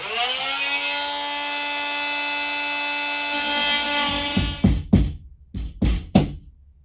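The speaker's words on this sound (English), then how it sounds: "I'm going to use an oscillating saw to cut a hole in this" An oscillating saw cuts a hole in a ceiling, a steady loud buzzing whine for about four seconds that then breaks into several short, choppy bursts as the cut continues and stops.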